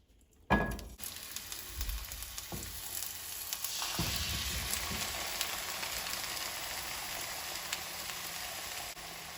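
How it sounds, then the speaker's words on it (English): Rinsed, drained and patted-dry jackfruit sizzles steadily in a hot pan, the frying starting abruptly and staying loud throughout, with a few dull spatula knocks as the pieces are broken down. "we're gonna just saute this and break it down with your spatula as it cooks and sautés in the pan"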